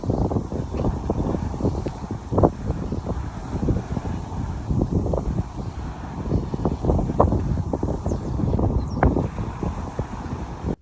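Gusty wind buffets the microphone in steady rumbling bursts, with rustling leaves and a faint engine-like drone underneath, on a snowy day in Japan.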